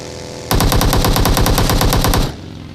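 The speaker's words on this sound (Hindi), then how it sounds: "ये बंदा किसी के ऊपर गोलियां चला रहा था" A rapid burst of video game machine gun fire rattles loudly for about two seconds, evenly spaced shots over a low background hum.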